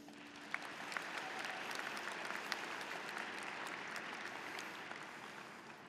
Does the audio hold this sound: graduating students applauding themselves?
yes